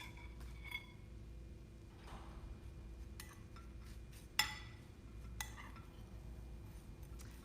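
A spoon mixes green bean casserole topping in a bowl, giving a few faint, scattered clinks and scrapes against the bowl in an otherwise quiet kitchen.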